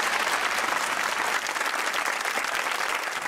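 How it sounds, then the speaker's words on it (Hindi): Studio audience applause on a Pakistani TV comedy talk show, a thick, continuous wash of clapping from the crowd that stays loud and even for a few seconds. "तालियां होनी चाहिए"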